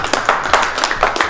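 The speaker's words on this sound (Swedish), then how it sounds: "Lite applåder boys." A small group of young men clapping briefly at a gaming prize giveaway, a quick patter of close hand claps lasting about a second.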